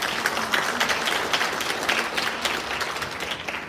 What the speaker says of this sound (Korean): 다시 한번 감사의 큰 박수 부탁드립니다